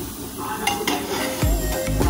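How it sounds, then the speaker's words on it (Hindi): Boiled rajma (kidney beans) is added to masala in a pan and stirred, giving a soft sizzle with a few scraping stirs and light clinks of a utensil against the pan, close up with no talking. "अब हम इसमें डालेंगे राजमा"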